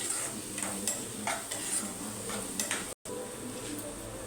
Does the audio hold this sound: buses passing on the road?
no